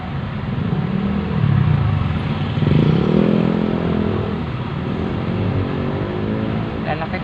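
Heavy road traffic with large trucks and buses rumbling past on a busy highway, a steady loud engine roar that swells midway as a big vehicle passes close, with a constant background drone throughout.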